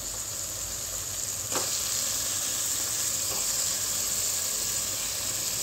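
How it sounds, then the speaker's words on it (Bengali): Washed chicken pieces go into a pan of cooked-down spices for a home chicken curry, setting off a steady loud sizzle and hiss with a couple of faint clatters of pieces landing, no talking. "এবার দিয়ে দেবো ধুয়ে রাখা চিকেনটা।"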